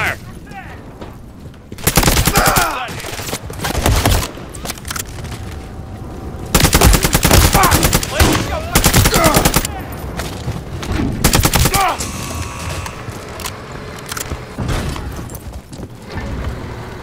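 Enemy gunfire in a Modern Warfare 3 mission: loud bursts of automatic weapon fire and booming shots in dense rapid volleys, broken by brief lulls, with voices calling out between them.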